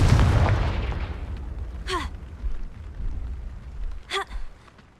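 After a faint low rumble, a Confringo explosive spell from Hogwarts Legacy goes off twice. Each blast is a sharp, crackling burst, the two about two seconds apart and standing alone against quiet background.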